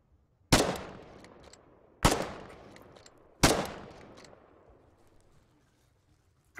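Gunfire in the war game Foxhole, three loud, sharp shots a second or so apart, each trailing off in a long reverberant decay before quiet.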